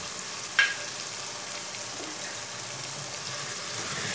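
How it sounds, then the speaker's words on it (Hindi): Chopped tomatoes and green chilies fry in a pan while Kashmiri chicken is being cooked, giving a steady moderate sizzle up close with one sharp clink near the start. "टमाटर और मिर्ची डाल के दो मिनट तक पका लेंगे"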